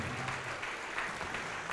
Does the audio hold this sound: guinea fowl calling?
no